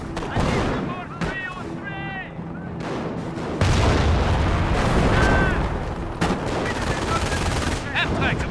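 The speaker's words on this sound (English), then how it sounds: "Gunfire!" Heavy gunfire and explosive booms in a Company of Heroes Online battle, with repeated shots and bursts, while voices shout over the chaos.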